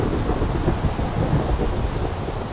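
Video-game thunderstorm from the Minecraft Forestry mod, a dense, steady roar of rain with low rumbling thunder filling the whole stretch, loud and continuous.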